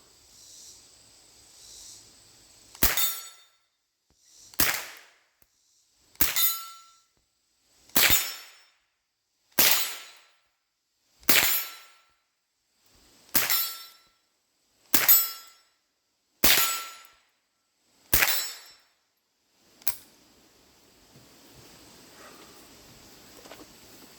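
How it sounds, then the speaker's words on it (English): Eleven sharp rifle shots fired with fixed sights at 40 yards, evenly spaced about every one and a half to two seconds, each a loud, close crack with a brief decaying tail. "This thing shot 40 yards with its fixed sight just as good"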